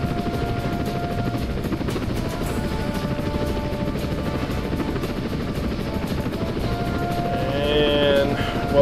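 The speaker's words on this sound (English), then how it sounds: "That's a big old Russian transport helicopter." A large Russian transport helicopter in the video game Apache Longbow Assault drones steadily with a deep rotor rumble and engine whine, loud and continuous, rising slightly toward the end as it draws closer.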